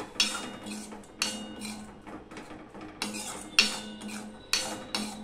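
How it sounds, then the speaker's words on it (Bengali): A utensil scrapes and clinks against a pan as spices are stirred and fried for a chickpea lentil and egg dish, in a steady series of sharp metallic strokes about once a second, close up with no talking. "এবার মশলাটা কষাতে থাকবো।"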